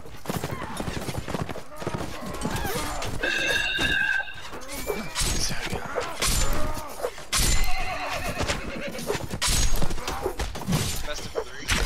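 Horses neighing and whinnying amid galloping hooves and clashing combat in the video game Mount & Blade: Warband, busy and layered with repeated loud bursts and players talking throughout.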